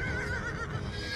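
Horses whinny in the Animal Revolt Battle Simulator video game, a high wavering neigh over a dense, steady background of game noise and rumble.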